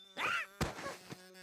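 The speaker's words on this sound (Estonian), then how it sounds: "See on mesilane, kelle metsas päästsin." A bee buzzes in a cartoon, a bright wavering drone with a thump partway through and a steady whine carrying on to the end.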